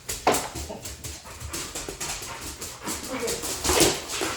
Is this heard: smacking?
no